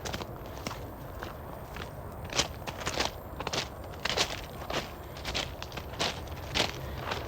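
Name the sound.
footsteps walking on gravel trail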